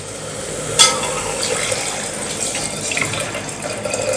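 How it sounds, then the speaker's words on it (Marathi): Water poured into a pot of toor and moong dal with dried coconut for sambar, a steady splashing pour with a sharp clink at the start and a gurgling, bubbling wash that continues throughout. "आता आपण यामध्ये पाणी घालूयात"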